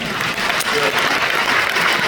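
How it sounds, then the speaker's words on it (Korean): Loud, dense clapping from a church congregation at a lecture, steady and close, filling the whole moment without a break. "이 목사님 박수 한번 쳐주십시오."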